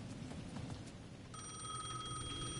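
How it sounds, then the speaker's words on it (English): A payphone rings in a plaza in the video game Alan Wake 2, a steady electronic bell tone that starts partway through over a low ambient background. "The payphone at the edge of the plaza was ringing again."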